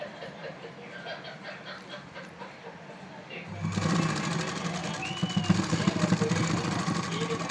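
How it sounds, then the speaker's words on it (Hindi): A sewing machine runs in steady bursts, stitching a waist strip along the sides of a garment, loud after a quieter start with voices talking underneath. "पूरी तरह से सिलाई लगाना है।"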